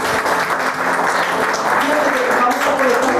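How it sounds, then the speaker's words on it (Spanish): A church congregation applauds together after a closing prayer, a dense, steady wash of clapping that stays loud for the full stretch, with a few voices mixed into the sound. "Dale un aplauso al Señor."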